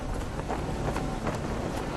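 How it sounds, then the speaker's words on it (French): Strong gusting wind over 80 km/h buffets a skyscraper construction site at the Trump Tower, a loud steady rumble of wind noise with no voices. "On a des vents de plus de 80 km/h."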